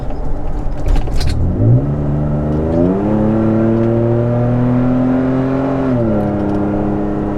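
A Toyota Tacoma pickup's aftermarket exhaust revs up hard while accelerating, its pitch climbing to about 5400 RPM then holding a loud, steady drone before shifting higher again; close and powerful, no voices.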